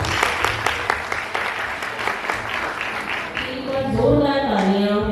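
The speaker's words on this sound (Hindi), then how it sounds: "जोरदार तालियां मीनाक्षी मैम और उनके सभी मेंबर्स के लिए" Sustained applause from an audience at a retirement farewell for a teacher, steady and dense clapping throughout, swelling slightly louder near the end with a faint tone or music entering.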